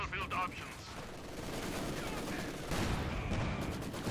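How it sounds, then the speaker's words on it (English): Machine gun bursts in a Company of Heroes 2 match, rattling gunfire and explosions mixed with battle noise, with a commentator talking over it. "Machine gun there caught out in the open, opening up the Pioneers."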